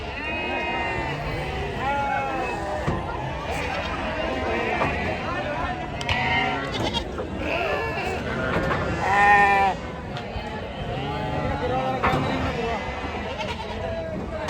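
Sheep and goats bleat repeatedly and overlapping at a large weekly livestock market in Maharashtra, a dense chorus of near and far calls over a busy crowd, with people talking throughout.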